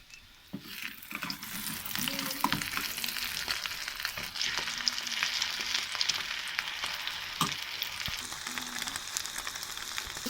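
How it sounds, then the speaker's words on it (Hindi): Leftover salan curry reheats in a pan on a village kitchen stove, giving a steady, close sizzle and crackle with a few sharp clinks of a utensil and no talking. "ये सालन भी गर्म हो रहा है।"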